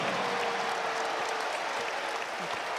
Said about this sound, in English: the crowd got up because Jordan Snell's made his way over to the scorer's table